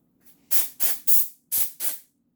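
Aerosol spray can cleaning a Lego castle: five short, loud hissing bursts of about a quarter second each, evenly spaced with brief gaps, close to the microphone with a faint background hum.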